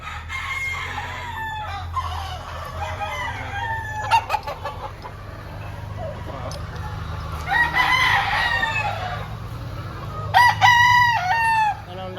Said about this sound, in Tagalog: Magagandang mga manok.